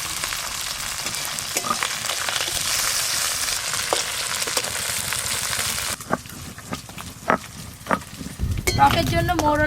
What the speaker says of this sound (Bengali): প্রথমে মোরলা মাছগুলো ভালো করে ভেজে নেব